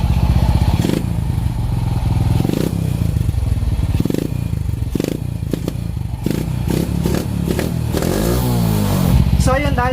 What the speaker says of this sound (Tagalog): konting bomba para madinig natin yung tunog ng tambutyo